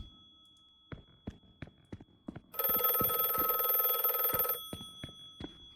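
An old-fashioned telephone bell rings loudly in a continuous burst for about two seconds in The Last Case of John Morley, framed by sharp intermittent footsteps or knocks before and after.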